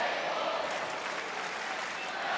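A capacity arena crowd in Atlantic City cheers on wrestler Chad Gable during a WWE Raw match, a dense continuous roar of applause with voices mixed in.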